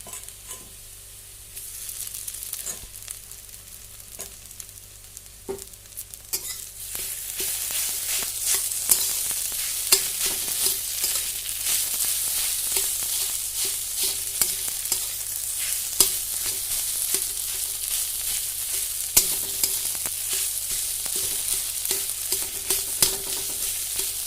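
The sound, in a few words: potatoes added to frying vegetables in a pan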